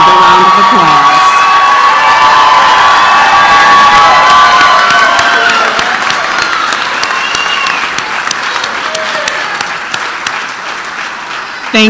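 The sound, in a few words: audience applause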